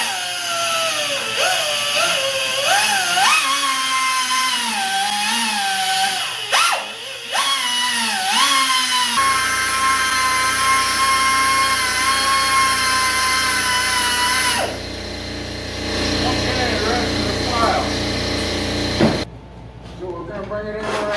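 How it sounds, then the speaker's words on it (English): Power grinder whining steadily while grinding out parts during a Bolton B290VG lathe motor repair, a loud continuous tool drone with pitch shifts and brief dips as the load changes, running for about twenty seconds. "Let's try to grind this out a little bit."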